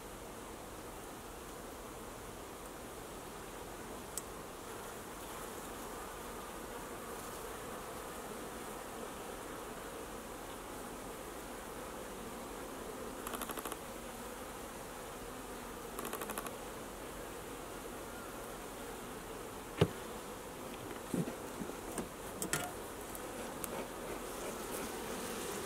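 Honeybees drone in a steady, soft hum around a newly kept hive as frames are inspected, with a few faint knocks and clicks rising briefly above the buzzing.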